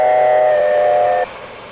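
A steam whistle blows a single steady, sustained blast up close, then cuts off, leaving a faint rumble.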